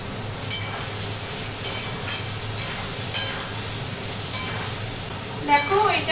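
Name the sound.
frying pumpkin in a pan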